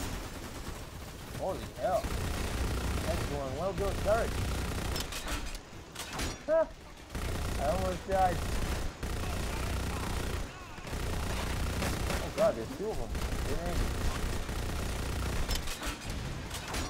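Turret gunfire in Lost Planet 2, a steady rattling stream of shots running nearly the whole time, with brief gaps and sharper impacts mixed in.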